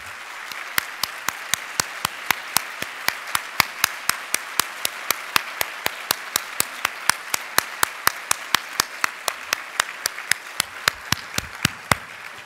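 An audience honouring active duty and retired military members applauds at a scholarship breakfast. A soft wash of clapping runs under sharp, evenly spaced claps that keep a steady beat throughout.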